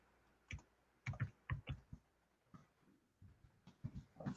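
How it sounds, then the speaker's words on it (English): Clicky keystrokes on a computer keyboard while text is entered into a form, coming in short irregular bursts of taps with brief pauses, close and fairly quiet. "we can type in some verbiage in here if we wanted to"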